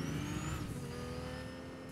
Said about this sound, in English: Joe Biden gets into his car